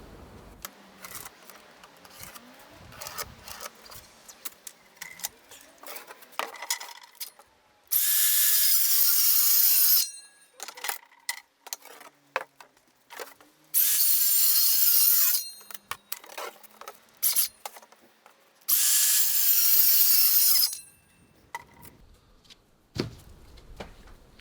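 A board is sawn out for a rhombus bee escape in three loud, sustained bursts of cutting, with clattering and handling noises in the pauses between.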